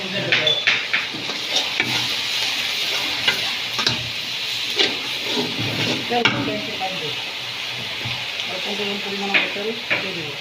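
Onions frying in about 250 grams of oil in a pan for tehari, a steady broad sizzle with repeated scraping and stirring clicks throughout, close and moderately loud, with brief faint voices in the background.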